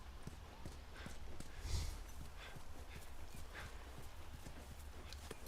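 Horse hooves walking in the video game The Last of Us, a steady soft clip-clop at an even walking pace, moderately close but faint against a constant low background rumble.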